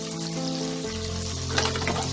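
Finely chopped onion dropped into hot oil with mustard seeds and cumin, a loud, continuous close sizzle that flares up sharply as the onion hits the pan, then keeps crackling steadily.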